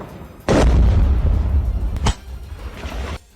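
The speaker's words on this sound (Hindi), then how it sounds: "उसी सैनिक ने अपनी राइफल से रूस की सेना पर फायरिंग शुरू कर दी" A Ukrainian soldier fires a rifle at Russian troops in wartime combat: two loud, sharp blasts about a second and a half apart, each trailing into a long rumbling echo.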